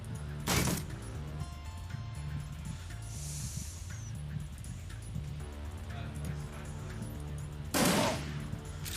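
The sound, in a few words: shotguns firing in video game Shadowrun Dragonfall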